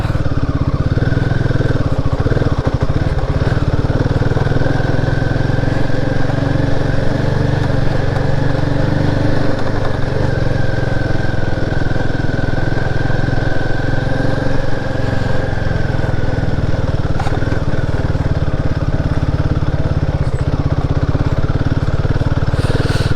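A motorcycle's engine drones loud and close for the whole stretch as it rides a rough, muddy mountain road near Mechuka, with a steady mid-pitched hum and slight pitch shifts, and no talk.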